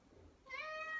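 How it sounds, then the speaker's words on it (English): A pet cat gives a single clear meow that starts partway through after a quiet, faint indoor background. "And if you hear meowing, that is my cat."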